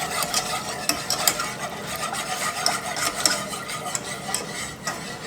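Spoon scraping and stirring a thickening cheese sauce in a nonstick pan for mac and cheese, with steady rubbing strokes, soft clicks and faint sizzle, close and continuous without talk.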